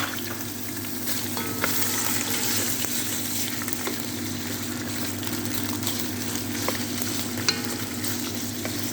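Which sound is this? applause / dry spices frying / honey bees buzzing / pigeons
dry spices frying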